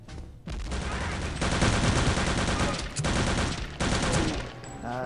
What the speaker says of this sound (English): I think it's time to test out grenades.